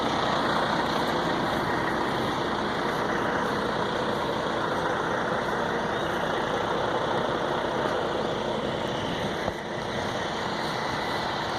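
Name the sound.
124-wheel truck driving through town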